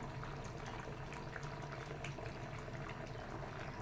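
Egg masala curry made with fresh coconut bubbles in a covered pot, a faint, even, continuous simmering burble with no voices or other interruptions.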